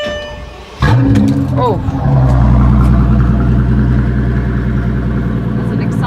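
A Maybach Exelero concept car fires up on a key turn: a sudden loud engine catch about a second in, then a deep, steady rumbling idle, with a brief voice exclaiming over it.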